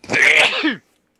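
A single loud, close sneeze with a sharp burst and a short falling tail, lasting under a second, followed by silence.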